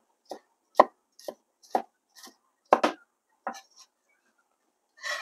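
Knife chopping spices for a beef tendon and potato curry, a series of separate crisp thuds on a cutting board, close and fairly quiet with short pauses between strokes.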